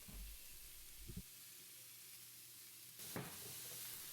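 Soft, steady sizzling of shrimp and vegetables frying on a hot grill griddle, a faint continuous hiss with a couple of brief louder bursts as food is moved or added.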